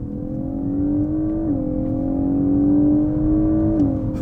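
An electric car accelerates hard, its smooth motor whine climbing steadily in pitch with a couple of brief dips. It is loud and close, with no talking.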